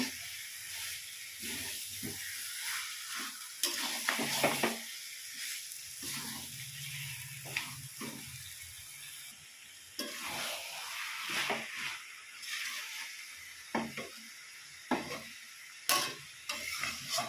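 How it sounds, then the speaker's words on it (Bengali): Chicken stirred through spices in a hot pan, with intermittent scraping strokes over a steady soft sizzle and hiss, moderately close and with no talk. "চিকেনটার সঙ্গে খুব ভালোভাবে মশলা মিশিয়ে নেব।"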